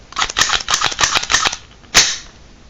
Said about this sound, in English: Push it in and snap it in place.